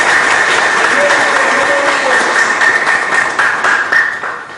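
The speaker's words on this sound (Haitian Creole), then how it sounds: "nous aimons tout le monde là applaudit nous très fort pour le sacrifice nous faisons" A crowd claps loudly and continuously for firefighters at a fire truck handover ceremony for the emergency service in Croix-des-Bouquets, Haiti, with a voice speaking over the applause before it fades near the end.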